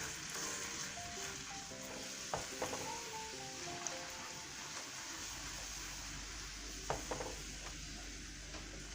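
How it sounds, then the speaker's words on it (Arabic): Boiling cream poured into hot caramel, giving a steady, fairly quiet sizzle and bubbling hiss throughout, with a few faint utensil clicks near by. "Donc je vais diluer mon caramel avec de la crème bouillante."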